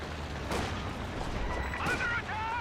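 Machine gun fire and explosions crackle in the Company of Heroes 2 game, a close burst of rapid shots under a commentator's voice.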